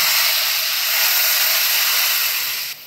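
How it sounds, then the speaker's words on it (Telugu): Loud, continuous hissing sizzle as hot tempering hits boiling lemon dal, steady for a few seconds before easing off at the end. "తాలింపు వేసామంటే ఆ సౌండ్ రావాలి"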